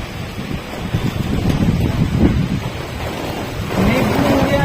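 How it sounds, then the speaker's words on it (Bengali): Blustery storm wind roars steadily with broadband rushing noise, likely with rain falling, during an April storm, buffeting the microphone and swelling louder toward the end; a voice may be faintly present. "এখন সন্ধ্যা হয়ে গেছে, দেখো জল পড়ছে"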